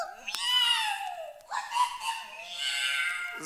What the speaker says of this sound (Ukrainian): Закричав кіт так сильно, що не чути було останніх слів горобця.